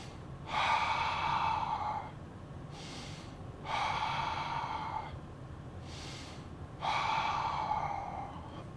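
Deep breathing during a yoga stretch, three slow, close and fairly loud breaths, each a long airy inhale or exhale separated by short pauses of quiet.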